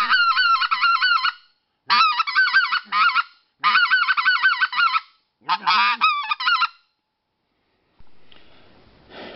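A double reed goose call is blown in a series of loud, close honking bursts, some single and some rapid clucks, with pauses between them.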